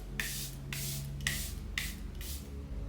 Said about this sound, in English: I'm just going to go in with my Charlotte Tilbury spray and just set this before I blend it.